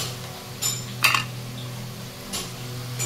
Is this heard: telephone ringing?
no